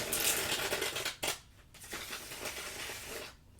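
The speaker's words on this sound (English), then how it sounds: "Going to start shuffling now, by the way." A deck of tarot cards being shuffled makes crisp, close riffling and rustling in bursts, broken by a brief pause midway.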